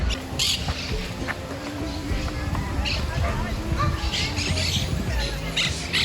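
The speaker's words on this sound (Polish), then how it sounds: "tu jest stado papug. Mam nadzieję, że ich nie przestraszę zbytnio." A flock of parrots in a Madrid park gives scattered shrill squawks and chirps against a busy outdoor background, with a person talking nearby throughout.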